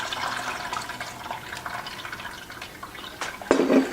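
Kefir poured through a strainer into an 8-quart pot, a soft trickling and dripping of liquid up close, ending with a brighter splash and clink.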